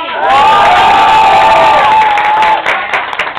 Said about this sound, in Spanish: Aplausos disque por Natalia París